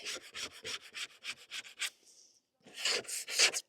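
A handheld scraper scrapes old sealant off a joint in rapid rhythmic strokes, close and crisp, in two bursts separated by a short pause.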